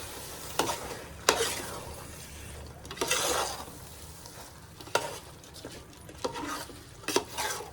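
Biryani ingredients being stirred and mixed in a pan, with a low sizzle and irregular scraping strokes and clinks of a spoon against the metal, close and moderately loud.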